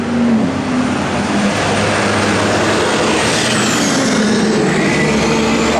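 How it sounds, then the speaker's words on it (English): A 1971 Plymouth Road Runner with dual exhaust runs loud and close. It gives a sustained throaty engine roar that rises slightly in pitch toward the end, with no talking. "Dual exhaust."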